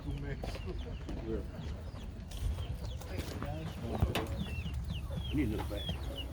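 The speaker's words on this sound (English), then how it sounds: "Oh, I hear chicks." Soft, high chirps and peeping of chicks scattered over a busy flea market murmur, with occasional louder clucks from chickens and people talking in the background.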